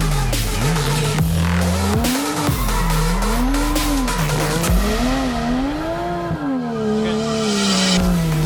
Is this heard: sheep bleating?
no